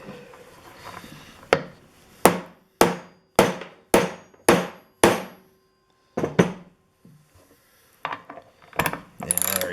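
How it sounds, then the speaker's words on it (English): A hammer strikes an Irwin Bolt Grip bolt-extracting tool in a series of sharp metallic blows, about eight evenly spaced hits followed by a few scattered softer knocks and a rattle, close and clear. "Let's give it one more shot with the hammer."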